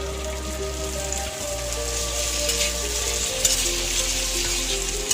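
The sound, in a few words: egg and potato sizzling in a pan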